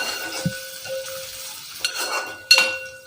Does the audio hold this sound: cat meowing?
no